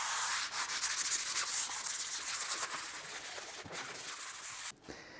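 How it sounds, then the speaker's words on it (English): Sandpaper wrapped around a block rubs back and forth over a window sill, a close, continuous hissing scrape with short strokes that fades slightly toward the end. "Just wrap it round and just sand it off."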